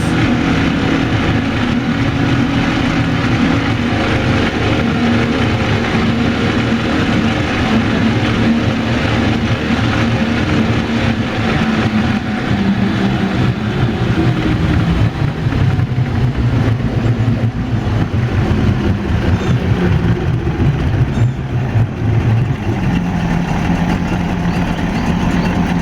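A 2004 Mercury 60 hp outboard motor runs steadily at about 4,500 RPM, with a loud continuous droning hum, a slight pitch shift near the end and no voices.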